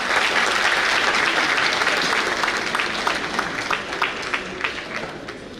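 An audience at a health service annual review applauds, loud dense clapping that gradually thins and fades into scattered claps toward the end.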